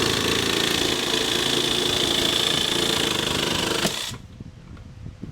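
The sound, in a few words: jigsaw cutting through a plastic bucket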